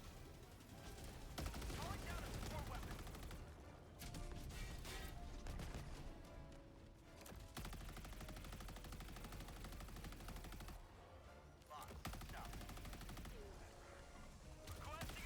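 A laser rifle in Helldivers 2 fires in long sustained bursts until it overheats, producing a dense, loud stream of crackling shots that pauses briefly, with a voice talking over it.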